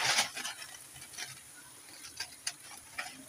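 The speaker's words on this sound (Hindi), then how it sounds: "मम्मी ये दोनों सेवई का पैकेट डालेगी इसके अंदर फ्राई करने के लिए" Sevai vermicelli fries quietly in ghee, giving off a soft, steady sizzle with scattered crackles and light stirring clicks. No one speaks.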